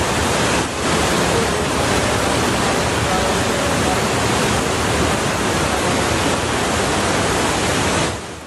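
Floodwater rushes through a river after a cloudburst, where part of a bridge has been washed away, making a loud, steady, broadband roar that continues throughout without a break.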